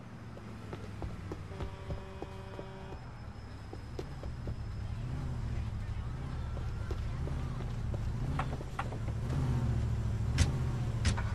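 A car driven through city streets in Grand Theft Auto 4 hums with a steady engine drone throughout, with scattered game sound effects and voices over it.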